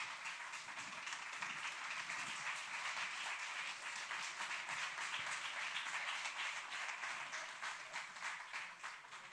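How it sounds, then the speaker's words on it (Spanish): Steady, faint applause from an audience at a 60th-anniversary training conference, following a presentation. Dense, even clapping continues alone for about nine seconds and tapers slightly at the end. "Ahí la tenemos, un fuerte aplauso."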